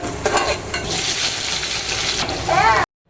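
Sliced onions and split green chillies fry in hot oil with mustard and fenugreek seeds, a loud, close sizzle with spoon-stirring scrapes and clinks that cuts off abruptly at the end.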